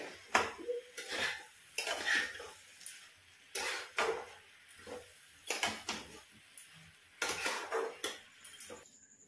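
Cabbage with shrimp being stirred in a pan for a ghonto, loud repeated scraping and clanking of a spatula against metal in irregular bursts, close up with short gaps between strokes.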